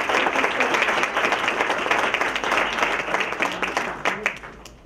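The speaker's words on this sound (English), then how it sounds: "a big round of applause to the director" A crowd at a Queens community event in a library applauds the library director with sustained, dense clapping and a few sharper individual claps standing out near the end, under a low murmur of voices.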